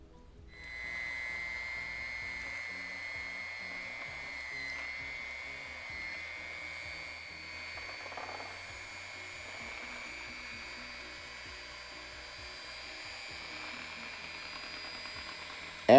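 A handheld electric mixer beats mascarpone cheese and egg yolks, giving a steady, even motor whine that holds nearly unchanged for the whole stretch, close and moderately loud.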